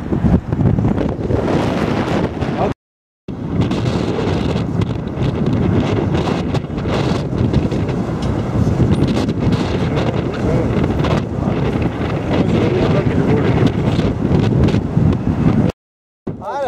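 Strong wind gusting hard across an outdoor microphone, a constant loud roaring buffet with rumbling low gusts lasting throughout, broken only by two brief dropouts; no clear talking.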